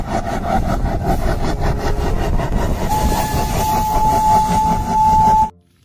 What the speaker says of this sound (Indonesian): Kereta Thomas teman-teman.